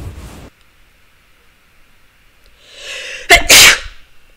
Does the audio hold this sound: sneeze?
yes